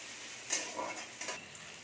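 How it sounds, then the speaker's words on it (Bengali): Soft, continuous frying sizzle from onion lightly frying in a pan, with a couple of quick scraping stirs and a light tap. "পেঁয়াজটাকে একটু ভেজে নেবো হালকা বেশি ভাজবো না"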